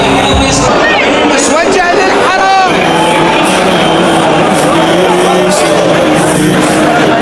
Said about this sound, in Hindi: जब खamenei का ताबूत लाया गया तो लोगों की भारी भीड़ वहां पर मौजूद थी